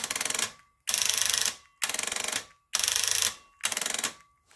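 A broken Warn M6000 winch clicks rapidly each time its remote is pressed, five separate bursts of dense ratcheting clicks, each lasting under a second with short silent gaps between them.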